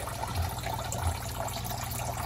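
Water runs and trickles steadily through the PVC drain pipe of a basement hydroponic grow tower filled with clay pebbles, a continuous close splashing flow with no voices.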